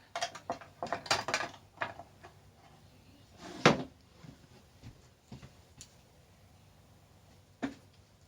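Quiet clattering and rummaging sounds, with a sharp knock midway and a faint click near the end, like a drawer being opened and searched.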